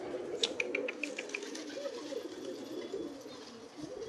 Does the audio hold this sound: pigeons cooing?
yes